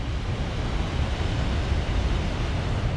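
Water pours down the Blowering Dam spillway as a loud, constant broadband roar, like heavy surf or wind, with no voices.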